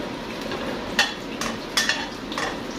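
Instant noodles stir-fried with fried garlic in a pan: a steady sizzle runs throughout, broken by several sharp scraping clinks of a spatula against the pan at irregular intervals.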